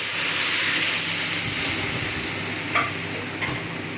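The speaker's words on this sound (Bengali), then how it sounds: "এদিকে মাংসটা কুচি হয়ে গেছে, এখন ঢেলে দিচ্ছি।" Chopped meat with turmeric and meat spices frying in a pan, a loud steady sizzle and hiss with a couple of sharp clinks of a utensil, no voices.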